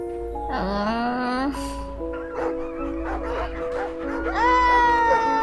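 Dogs in the video game My Little Puppy yipping and whimpering in tonal, wavering calls, several overlapping voices over a steady low background, fairly loud throughout.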